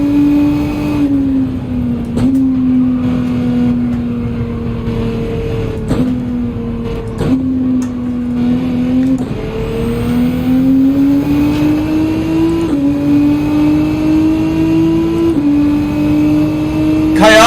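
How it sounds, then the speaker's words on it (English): Peugeot RCZ Gr.3 race car with a Nissan R35 engine in Gran Turismo 7 at Watkins Glen, a loud steady engine drone that rises and drops with sharp gear changes, heard continuously and close. "This has a Nissan R35 engine in this car."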